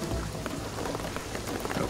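Rain in the video game Shadow of the Tomb Raider, a dense, fairly quiet patter of drops hitting surfaces, with a few brief louder splashes scattered through.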